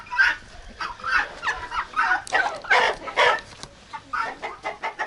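Turkeys gobble and chickens cluck in a Ukrainian village yard, with a dense, overlapping run of close, loud fowl calls that continues without a break.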